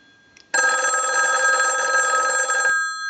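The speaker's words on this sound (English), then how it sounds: "We're going to ring the telephone." A Western Electric 554 rotary wall telephone, rung by a test analyzer during repair, sounds its bell after a brief quiet tick: a loud, continuous metallic jangle lasting a little over two seconds before cutting off sharply.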